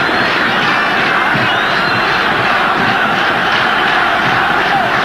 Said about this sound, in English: Crowd roar them on.